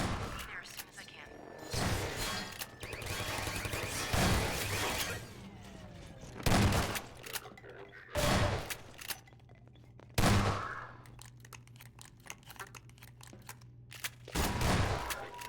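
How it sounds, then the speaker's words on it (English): Automated turret gunfire in the video game Half-Life 2 comes in repeated loud bursts spread across the scene, mixed with other battle noise and a player's voice talking over the action. "this fight around the Allied turrets was challenging"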